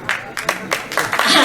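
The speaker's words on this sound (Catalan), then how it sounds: "molt maco aquest aplaudiment espontani" Spontaneous applause from an audience at a film festival screening session, short bursts of clapping building over a second and a half, fairly close and loud with a crowd murmur underneath.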